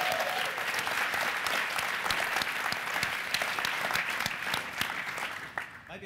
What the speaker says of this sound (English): let's clap it up for Steve Smith